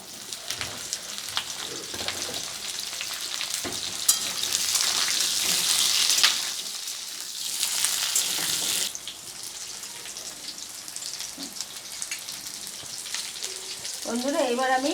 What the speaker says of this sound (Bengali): আলু আর কুমড়োটাকে আমি ভালো করে একটু ভেজে নেবো।